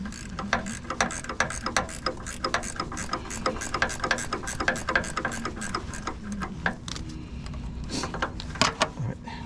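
A hand ratchet loosens a bolt on a 2003 Toyota 4Runner rear shock, its rapid pawl clicks running close and loud in steady bursts with short pauses and metallic clatter.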